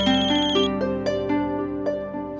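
A mobile phone rings with an incoming call, a bright, melodic electronic ringtone playing a quick rising and falling tune of clear chiming notes, loud and close with no talk over it.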